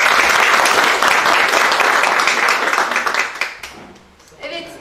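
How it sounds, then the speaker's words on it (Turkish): An audience at a foundation's press meeting breaks into loud, dense applause that holds for several seconds, then tapers off into scattered claps with a few voices. "Hepinizden kendinize ve bize bir alkış rica ediyorum."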